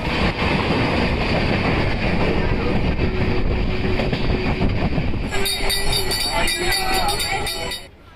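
Inside a moving passenger train, a steady loud rumble of wheels on track carries on throughout, with bright ringing tones and chatter layered in near the end before the noise drops away.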